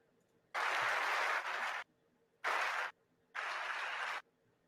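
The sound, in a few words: audience applauding during Biden's speech in Canada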